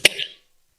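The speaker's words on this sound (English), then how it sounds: "No, just clear my throat, sorry." A single brief throat clearing from a man at a city council meeting, one sharp close burst trailing into a short rasp, then silence.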